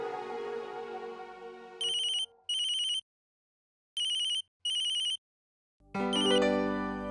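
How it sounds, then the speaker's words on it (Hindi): An incoming-call ringtone on a phone chimes in four short bright double bursts separated by silence. Soft background music plays before and after the rings. "अक्षरा, थैंक गॉड कि आपने मुझे फोन कर लिया।"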